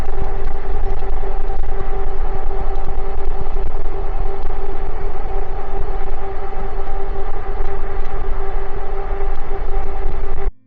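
Heavy, roaring wind buffets the rider of an Engwe E26 electric bike cruising at 25 mph, a loud unbroken rush with a steady low drone.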